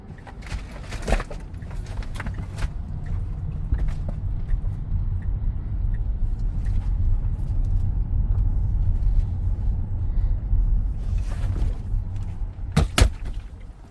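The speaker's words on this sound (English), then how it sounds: "Drives right through the stop sign." A car rolls steadily through a stop sign outdoors, a continuous low engine and road rumble that swells and fades, with a few sharp clicks and clatters nearby.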